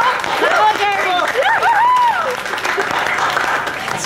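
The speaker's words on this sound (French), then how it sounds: "Ils applaudissent aujourd'hui" An audience applauds during a dramatic comedy sketch, steady clapping that fills the whole stretch, with voices calling out and speaking over it.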